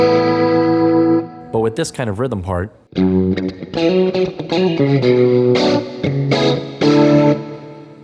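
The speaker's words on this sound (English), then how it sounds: "there's actually a little too much reverb" Electric guitar rhythm part played through an Axe-Fx II preset with an overly pronounced reverb, the chords ringing with a washy, lingering tail; someone talks over the start before the playing continues alone.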